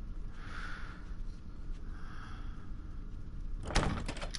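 A locked door in Resident Evil gives a short, sharp rattle near the end, heard alone after a few seconds of low, steady ambient hum.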